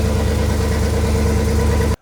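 Close, loud idle of a 1955 Buick V8, a smooth steady throb that cuts off abruptly just before the end.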